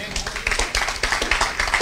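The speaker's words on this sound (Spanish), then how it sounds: "Dale palmas a Cristo." A church congregation claps in praise of Christ in quick, even rhythmic bursts, close and fairly loud, with a voice faintly underneath.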